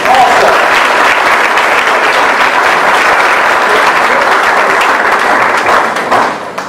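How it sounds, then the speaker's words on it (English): Loud, sustained applause from a crowd at an evening steak dinner fundraiser for a Boys and Girls Club, honoring elected officials in attendance; dense continuous clapping that holds steady before tapering slightly at the end. "Give them a round of applause."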